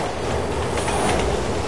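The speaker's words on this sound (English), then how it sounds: "Train's coming." A train thunders past in the video game Resident Evil 6, a loud, close, continuous rumble with rattling wheels on the rails.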